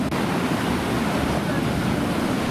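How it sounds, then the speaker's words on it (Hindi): Rough sea surf roars continuously with heavy wind buffeting during Cyclone Yaas on the Odisha and Bengal coast, a dense, unbroken wash of crashing water close by. "समुद्र की लहरों का जोर"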